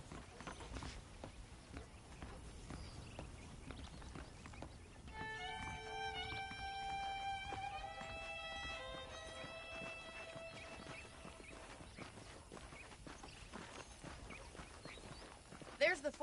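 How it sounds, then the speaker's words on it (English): Horse hooves clip-clop quietly in the Red Dead Redemption video game, a steady patter under game music and a voice talking. "The horses are saddled up over here."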